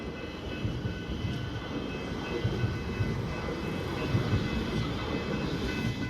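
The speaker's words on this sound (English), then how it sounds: "Finally I get this train!" A steady, loud rumbling roar with broadband rattle as a Siemens Nexus train rolls past close by at a level crossing on Victoria Street, Brunswick, Victoria, continuous with no voices.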